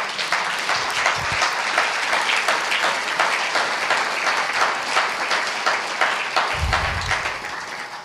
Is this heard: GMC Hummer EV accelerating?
no